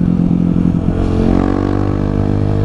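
Off-road motorcycle ride, the engine droning loud and close with a rising, revving pitch while gravel clatters and scrapes underneath.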